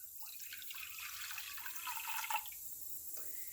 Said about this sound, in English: So I'm going to put 2 cups of water in my pot.